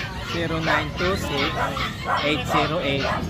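Several Doberman dogs bark and yip repeatedly at close range at a pet market in Bocaue, with overlapping barks in an irregular rhythm and faint whimpers between them, while people talk in the background.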